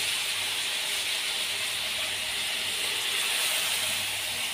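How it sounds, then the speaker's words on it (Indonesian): Big pork intestine in a frying pan, with a little water added to simmer and boil, gives off a loud, steady, broadband hiss and sizzle that fills the whole stretch without a break. "Lepas tu kita bagi dia air sedikit ya, untuk dia mendidih ya."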